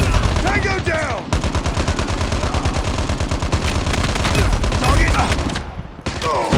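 Rapid, loud bursts of machine gun fire in the mobile shooter Call of Duty Mobile, a dense rattling stream of shots with brief pauses and the odd game voice sound over it.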